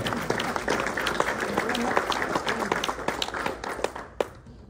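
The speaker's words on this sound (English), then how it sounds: "And you can clap." An audience claps continuously at a live talk, dense applause carrying steadily for several seconds before thinning out near the end.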